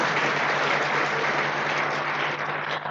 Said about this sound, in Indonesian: Jadi kita beri tepuk tangan untuk teman-teman yang memutuskan hadir di ruangan ini.